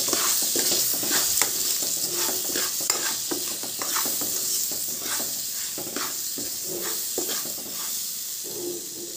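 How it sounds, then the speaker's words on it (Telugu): Mango dal ingredients with ginger are stirred in a hot pan, with repeated rhythmic spoon scrapes over a continuous hissing sizzle, close and fairly loud. "ఇవన్నీ వేసుకున్నాక మంచిగా బాగా అన్నీ కలిసేటట్టు కలుపుకోవాలి"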